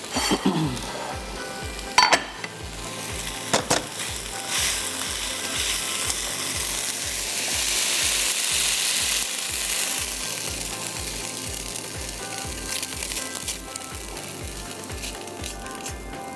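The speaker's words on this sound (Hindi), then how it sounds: "सब्जियों को ज़्यादा ओवरकुक नहीं करिएगा, बस स्टर फ्राई करते रहिएगा" Vegetables sizzle steadily in a hot pan while being stir-fried, a continuous bright hiss overlaid with a regular rhythmic clacking of the utensil against the pan, close and fairly even throughout.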